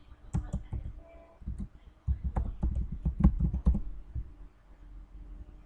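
Quick clatter of keys on a computer keyboard as example text is typed, two short bursts of close, irregular taps separated by a brief pause.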